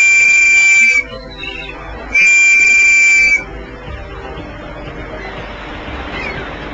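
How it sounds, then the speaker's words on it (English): A life jacket's safety whistle gives two loud, shrill, steady blasts, each about a second long with a short gap between, followed by quieter rushing wind or water noise. "use the whistle on your life jacket to attract attention"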